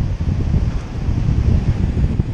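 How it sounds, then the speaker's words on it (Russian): Wind and surf on a Cape Cod beach in October, a steady close rumble of blustery wind with crashing whitewater waves, loud with no voices. "Волны, белая вода."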